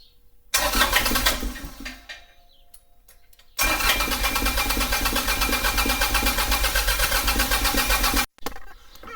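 A fire-damaged Kubota tractor engine cranks loudly for a second or two, falls quiet, then fires and settles into a steady, close, rough-running chug that continues until it cuts off briefly near the end.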